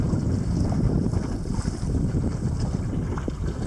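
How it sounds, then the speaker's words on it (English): A new-to-her Lapwing 15 lapstrake sailboat reaching across Woods Reservoir under new sails, with steady wind buffeting the microphone and water sloshing and rushing against the hull, loud and continuous. "we're sailing across Woods Reservoir here, heading for the sailing club"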